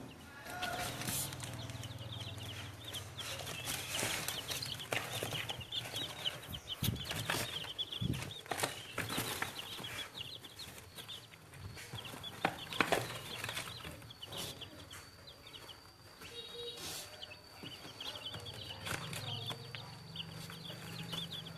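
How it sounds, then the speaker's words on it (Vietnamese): A mixed farmyard flock of hens and roosters clucks and calls continuously, with overlapping squawks and a few louder cries standing out over steady outdoor background noise. No speech is heard. "Hình như đàn này nhiều gà trống hay sao ấy."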